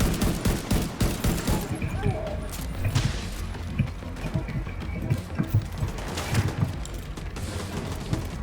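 Rapid automatic gunfire and mixed combat effects in the video game The Division 2, dense and continuous with sharp repeated cracks, with a voice talking over it at times.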